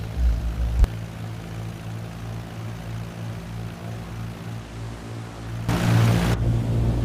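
Cessna 152 propeller plane taxiing on an airport taxiway, its engine a steady low drone with a pulsing hum throughout, briefly louder toward the end.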